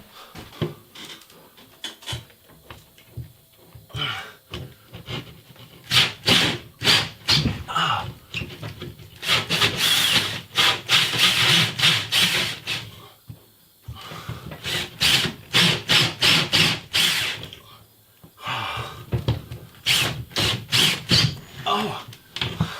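A drill bores through drywall with a Blue Mole drywall dust collector fitted, giving a close, loud grinding and rasping in repeated bursts with short pauses between them.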